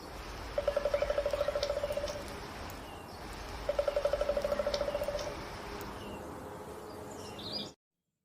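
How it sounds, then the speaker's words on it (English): A woodpecker calls in two bursts of rapid, evenly pulsed notes, each about a second and a half long, separated by a short pause, clear and moderately close against a soft outdoor background. "woodpecker"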